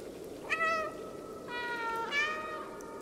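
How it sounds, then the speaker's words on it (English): A cat meows three times in the video game Stray, clear, drawn-out cries with short gaps between them, heard alone at moderate volume. "Yeah, I know how to meow."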